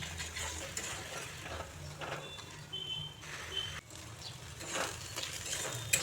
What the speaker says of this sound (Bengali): তারপর এগুলোকে ভালো করে কষিয়ে নেব।